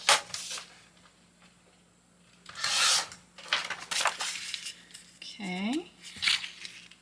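Paper being cut for a small junk journal ephemera folio, with a few brief close snips and rustles set apart by quiet gaps, and a voice briefly heard amid the handling.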